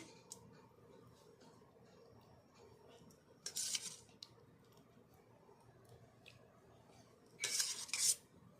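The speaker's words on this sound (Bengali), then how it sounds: "এই যে ওকে বাটিতে তরকারি দিয়ে দিচ্ছি" Curry being served into a bowl at home, with a few bright clinks of dishes and cutlery at two moments over a quiet room background.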